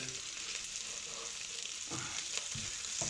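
Chorizo sizzles in a pan with red wine and honey, a steady bright frying hiss punctuated by a few soft stirring knocks and spatters, heard alone without talk.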